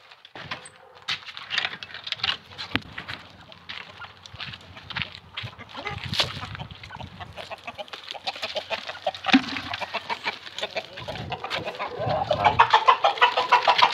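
A flock of hens clucks and squawks nearby in a farmyard, with busy overlapping calls throughout. The clucking grows a little louder and denser toward the end.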